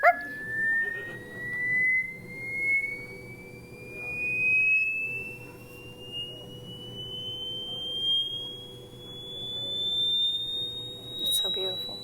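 A dog howls along with the high, steadily rising tone of a vibrating Chladni plate. Its wavering howls swell and fade in repeated waves beneath the continuous pure whine of the sweep.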